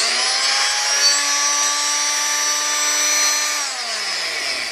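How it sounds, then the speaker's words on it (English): A high, buzzing oscillating multi-tool whines steadily while cutting through a book's cover and pages, then winds down as the motor slows near the end. "when I cut my book, it kind of slices through the cover and the pages"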